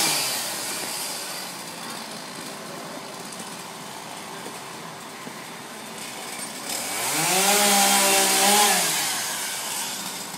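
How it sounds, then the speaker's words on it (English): Chainsaws cut up a very large fallen tree on a street on New York's Upper West Side, with police on scene. A steady engine drone swells into a loud rising and falling rev amid outdoor street noise. "they're trying to remove as much of the tree as possible with chainsaws"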